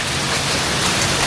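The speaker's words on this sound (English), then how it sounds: "We got hail coming down." Hail and rain pelting down during a thunderstorm at an off-grid homestead, a dense, steady hiss of heavy downpour filling the short moment with no voices.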